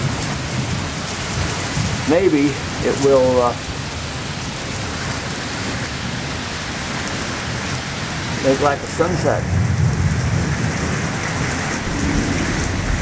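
A thunderstorm at sunset under an orange sky, with steady loud rain pouring and rumbles of thunder throughout, while someone talks briefly twice over the downpour.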